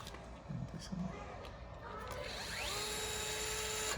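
Cordless power tool whirring as it drives screws out of the receiver plate area on an Arrma Kraton 6S RC car, with a steady rising motor whine near the mic while someone talks over it.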